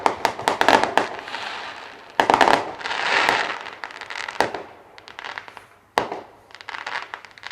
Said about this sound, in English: My first ever explosion.